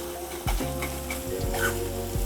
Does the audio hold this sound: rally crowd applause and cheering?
no